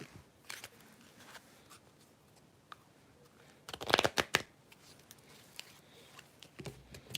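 A stiff deck of cards is shuffled close by, giving a quiet run of crisp riffling flutters with a louder burst in the middle and scattered light taps around it.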